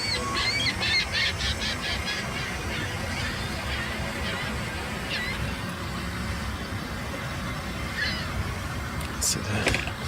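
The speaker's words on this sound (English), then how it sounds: "So the Seagulls are having a time here. A lot of them just circling around." Seagulls circling over an outdoor over-60s cricket ground, with faint, scattered squawks and cries over steady open-air background noise.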